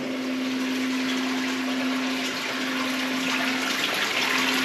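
Floodwater from outside runs continuously into a house under construction on a rainy day, a steady loud rushing wash with a constant low hum beneath it and no pauses.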